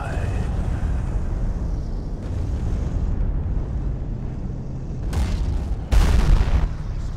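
Tank cannon fire in World of Tanks on the Himmelsdorf map, with two sharp booms in quick succession rising over a steady engine rumble.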